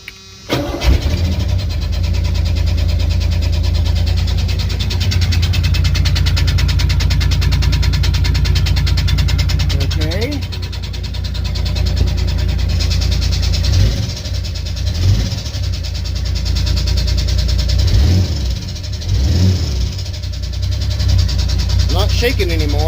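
A cold start of a 1985 Chevrolet S10 pickup recently swapped to a five-speed manual: the engine cranks, catches and settles into a loud, steady idle, with a few revs rising and falling later on, and someone talking over it now and then.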